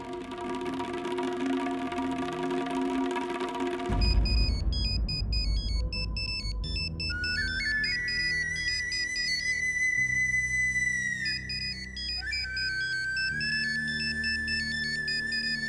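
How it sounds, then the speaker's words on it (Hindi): A mobile phone rings in a classroom, first as a steady electronic tone, then as a bright, repeating melodic ringtone that plays on loudly and continuously with no talk over it. "फोन बज रहा है इनका।"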